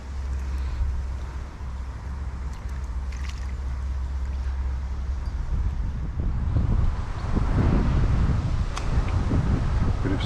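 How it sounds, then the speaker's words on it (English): Steady wind blows by a canal during jig fishing, a continuous low rumble buffeting the microphone that grows rougher and louder toward the end, with no talking. "Wind's picking up a bit more"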